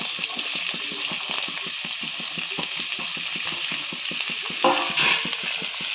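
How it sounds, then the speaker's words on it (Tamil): Carrot, capsicum and cabbage sizzle steadily in a hot pan for egg fried rice, with repeated stirring scrapes in a regular rhythm and a brief louder burst near the end, close and without talk. "இப்போ இதை நல்லா ஃப்ரை பண்ணிக்கலாம்"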